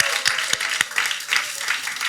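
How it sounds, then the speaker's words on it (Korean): A church audience applauds the staff with scattered, sharp claps, a few distinct close hand strikes over a softer spread of clapping, with a voice faintly present. "스태프들에게 우리 박수 한번"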